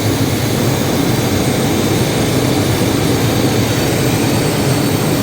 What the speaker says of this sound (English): There's another 1/4 turn, and you can hear it, the RPM still increasing a little.